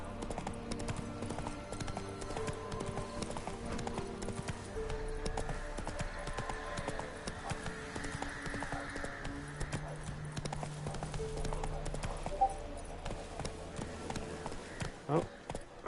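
Roach, a horse in The Witcher 3, gallops with rapid, steady hoofbeats through a swamp, over a continuous bed of game ambience and music, with a few heavier thumps near the end.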